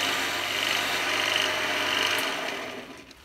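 A steady, smooth scraping hiss of a roughing gouge on a lathe shaving fine wood shavings, continuous and close, with a low motor hum underneath that drops away near the end.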